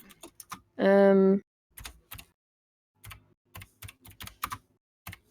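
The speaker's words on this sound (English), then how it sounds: "She's typing." Bursts of quick keystrokes on a computer keyboard, clustered clicks separated by pauses, fairly close, with a brief sustained tonal sound early on and no speech over the typing.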